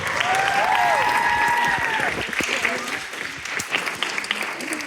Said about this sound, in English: Let's give one more round of applause for Quinton and Abigail.